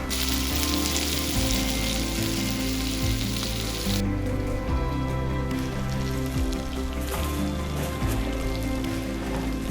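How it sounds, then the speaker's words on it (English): Butter sizzles as it melts in a hot pan with seared scallops, a dense crackling hiss that is loud at first and then thins, heard under steady music. "I'm gonna put that butter right in there. It's melting."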